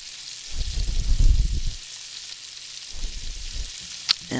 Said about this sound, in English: I'm going to actually pan fry them and just get a good crust on the outside